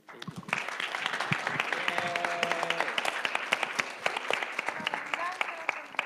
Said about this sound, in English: Let's give a round of applause to all our panelists tonight.